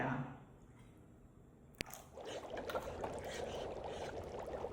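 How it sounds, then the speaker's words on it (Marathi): Water is poured into a pan of masala kadhi: after a quiet start and a sharp click, a continuous splashing pour builds and runs to the end. "आपल्याला हवं त्याप्रमाणे पाणी ऍड करा."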